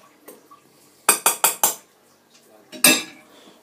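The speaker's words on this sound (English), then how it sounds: "Just give me half a second while I stir this." A spoon scrapes and clinks against the side of a slow cooker pot while stirring stew, four quick close knocks followed by a single louder clink after a short pause.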